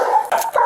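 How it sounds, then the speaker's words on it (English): A police dog barks in a single short, loud burst of several rapid barks close by, during an arrest in a car garage. "Dog's coming, dog's coming."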